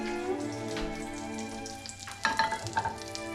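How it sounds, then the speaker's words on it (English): English muffins frying in butter in a skillet give off a soft, steady sizzle close by, with a few brighter spattering pops toward the end and faint tonal music underneath. "English muffins in a skillet in butter."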